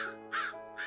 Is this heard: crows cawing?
yes